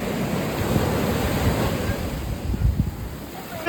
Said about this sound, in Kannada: ಸಕ್ಕತ್ ಅಲೆ ಫಾಸ್ಟಾಗಿ ಬರ್ತಿದೆ ಇವಾಗ ನೋಡಿ